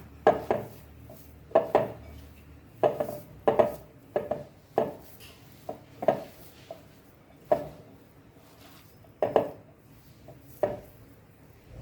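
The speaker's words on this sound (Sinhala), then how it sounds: "ලුණු ටික, අම මිරිස් ටික, කරපිංච, ඉඟුරු මේ ඔක්කොම දාලා කලවම් කරමු." Salt, green chili, curry leaves and ginger being mixed together in a bowl: steady, rhythmic knocks and scrapes of a utensil against the bowl, close and moderately loud, repeating roughly every second with no talk.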